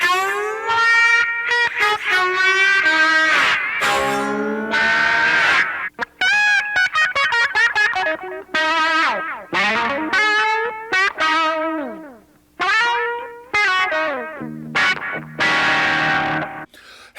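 Electric guitar run through an Eno Music auto wah pedal, a steady run of played notes and chords whose tone sweeps and blooms as each one rings, loud and continuous with no talk.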